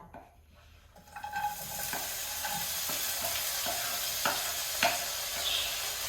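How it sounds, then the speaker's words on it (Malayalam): Chopped vegetables sizzle steadily in hot coconut oil in a pan, a dense continuous hiss joined by a few soft clicks of stirring after an abrupt start. "ഇനി നമുക്ക് നമ്മൾ അരിഞ്ഞു വെച്ച സംഭവങ്ങളൊക്കെ അതിലേക്ക് കൊടുത്ത്"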